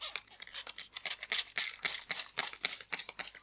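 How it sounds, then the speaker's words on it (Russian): A handheld spray bottle misting warm water over Easter kulich dough before baking gives a rapid series of about a dozen short, crisp, breathy spritzes, close and fairly even in rhythm. "Сбрызгиваю теплой водой через распылитель."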